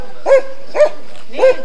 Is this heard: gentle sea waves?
no